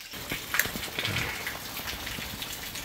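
Heavy rain pours steadily outdoors in Tamil Nadu, a dense, even hiss of drops drumming on surfaces with occasional splashes, continuous and fairly close throughout.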